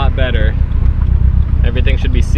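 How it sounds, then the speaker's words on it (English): Nissan 240SX with a built SR20DET engine idling after warm-up, a steady, low pulsing rumble close by that runs under a voice throughout. "the motor's finally warmed up. We're running at about 11s right now at idle."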